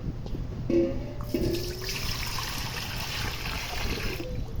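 Water pours and splashes steadily for a few seconds into cookie dough ingredients, a continuous trickling rush with a couple of brief clinks near the start.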